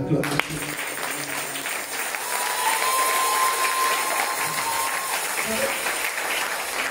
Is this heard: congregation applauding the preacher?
yes